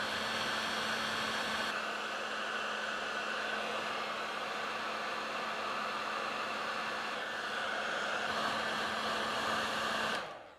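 A heat gun blowing steadily while shrinking heat shrink tubing on screened speaker cable, a loud constant hiss with a low hum that cuts off abruptly at the end.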